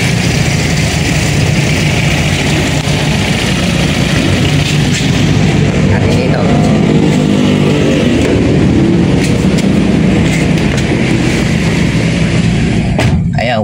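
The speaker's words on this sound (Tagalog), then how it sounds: "Ayan, warm up na yung makina natin oh." A Toyota 2E/4AF car engine warms up after a cold start, running as a loud, steady low rumble that continues without a break. Someone speaks briefly over it near the end.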